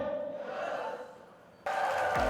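Audience at an awards recognition event cheering and applauding loudly, a broad crowd roar that dips briefly and then surges back even louder near the end.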